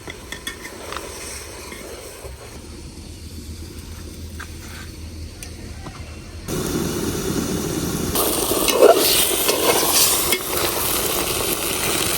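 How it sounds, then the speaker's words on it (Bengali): Fish head stir-fried in a pan with a little water for mung dal, a quieter scraping stretch first, then a louder sustained sizzle with stirring and utensil clinks against the pan. "এখন মাছের মাথাটা একটু ভালো করে কষাই নিলাম"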